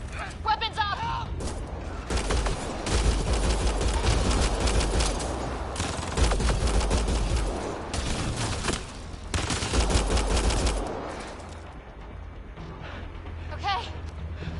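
Loud sustained gunfire from a firefight in Mass Effect Andromeda, with dense bursts of automatic weapons fire that surge and drop over several seconds, heard alongside shouting voices.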